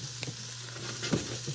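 Scrambled eggs frying in a pan, a steady close sizzle with soft scraping stir sounds and a few brief clinks.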